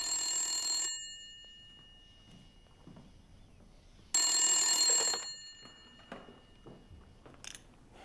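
A telephone rings indoors with two loud bursts of electronic bell ringing separated by a quiet gap, followed by faint handling noises.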